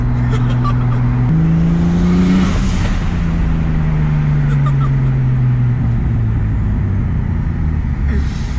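Rebuilt forged turbo M50 engine in a BMW E30 pulls hard under boost, a loud continuous rising drone with gear-change steps, close and steady throughout.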